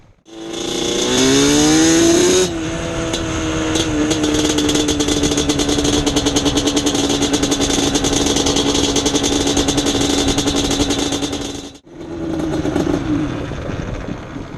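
Yamaha Banshee ATV engine fired up and revved, the two-stroke climbing in pitch over the first seconds, then holding a loud buzzing steady rev, briefly dropping near the end before picking back up.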